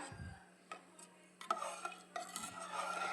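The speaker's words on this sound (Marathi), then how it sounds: "आपण हलवून घेणार आहे याला थोडंसं अगदी एक अर्धा मिनिट आपण हलवून घेऊया" Broken rice with coarse salt being stirred in a pot for a cauliflower and pea masala rice, giving a few separate scraping, gritty strokes that grow busier toward the end, close and fairly quiet with no talking.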